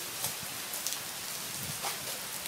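Steady rain falling outdoors, a continuous broadband hiss with a few brief louder gusts of drops, fairly close and moderate in level, with no talk.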